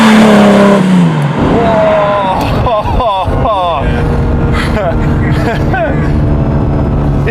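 A Lamborghini Diablo engine revs and roars loudly, its pitch climbing and falling through gear changes, with voices talking over parts of it.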